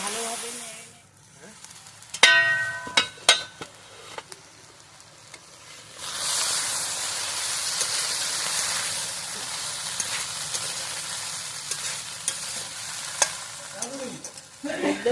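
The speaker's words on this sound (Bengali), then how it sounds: "এইভাবে ভালোভাবে নেড়ে চেড়ে করে" Pumpkin stalk curry being stirred in a pan, with scraping spoon strokes and clinks against the metal followed by a steady, loud sizzle and hiss as the vegetables fry.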